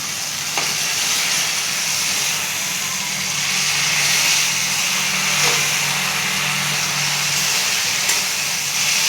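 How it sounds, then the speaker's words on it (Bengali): Steady, loud sizzling hiss from a hot pan of thin shingi fish curry with pointed gourd and potato as boiled tomato goes in, with a few faint clinks and stirring scrapes throughout. "এই যে আমি টমেটো সিদ্ধটা দিয়ে দিলাম।"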